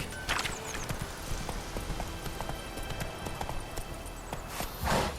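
Hooves of Roach, Geralt's horse in The Witcher 3, galloping in a fast steady clip-clop rhythm close by, with a couple of snorting breaths rising over the hoofbeats.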